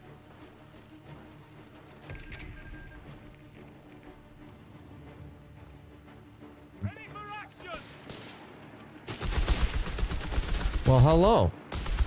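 Gunfire in Company of Heroes 3, with a burst of loud, dense shots late in the stretch while someone talks over quieter battle noise earlier.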